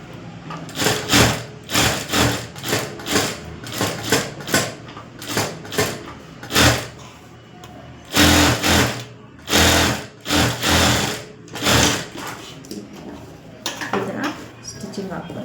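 A sewing machine stitches a simple neck design in quick bursts of rapid mechanical whirring and clatter, separated by short pauses, close and loud.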